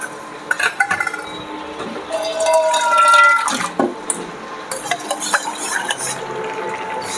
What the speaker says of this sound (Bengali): সামান্য একটু জল অ্যাড করলাম এর মধ্যে।